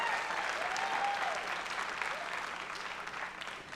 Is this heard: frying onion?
no